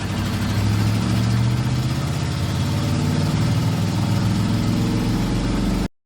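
A vintage Ford 534 cubic-inch V8 from an F800 truck runs steadily with a deep, throbbing low-pitched rumble, loud and close, holding a fairly even idle-to-mid rev for about six seconds before cutting off abruptly.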